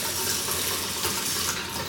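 Water pours from a tap into raw rice in a rice cooker pot, a loud, close, steady broadband rush that runs unbroken and alone for about two seconds.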